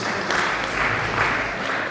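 A steady wash of applause from a crowd at a law week event, dense and even throughout with no clear individual claps standing out.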